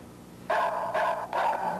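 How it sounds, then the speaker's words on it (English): An electronic watchdog alarm gadget barks like a dog, three loud, synthetic woofs in quick succession, close and alone. "if a burglar comes in and walks in front of that, it starts barking"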